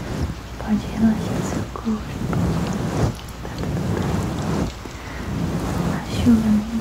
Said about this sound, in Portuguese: A chuva nem vai assustar mais você. Eu tô aqui. Nem os trovões, os raios.